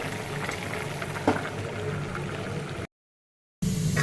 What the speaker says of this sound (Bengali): মাগুর মাছ দিয়ে বিভিন্ন সবজি, কাঁচা কলা, বরবটি, পেঁপে, টমেটো দিয়ে একটা হালকা পাতলা একটা সবজি রান্না হচ্ছে